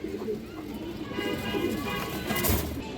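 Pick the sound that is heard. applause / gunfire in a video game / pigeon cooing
pigeon cooing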